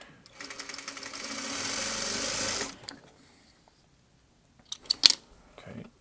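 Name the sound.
sewing machine sewing quilt block pieces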